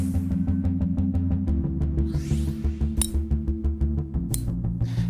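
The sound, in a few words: cast game improvement golf irons striking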